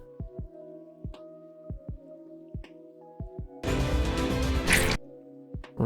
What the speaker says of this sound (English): So that little squishing sound.